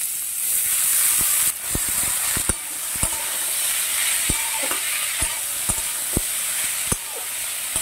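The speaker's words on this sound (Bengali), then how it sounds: "আলুটা খুব ভালো মতো ভাজা হয়ে গেছে। আমি দিয়ে দিচ্ছি মূলোটা, সেদ্ধ করে নিয়েছি সেই মূলোটা।" Boiled radish and fried potato sizzle in a hot pan, a loud continuous hiss broken by regular sharp clacks and scrapes of a spatula stirring, with no one talking.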